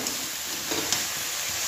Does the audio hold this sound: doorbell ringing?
no